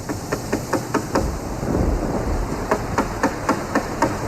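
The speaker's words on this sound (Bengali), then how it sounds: "এমন সময় বাংলোর দরজায় ঘন ঘন করাঘাত হতে লাগলো।" Repeated knocking on a bungalow door during a night storm with rain, sharp raps in quick bursts, a pause, then another run of knocks, loud over a rumbling rain-and-wind background.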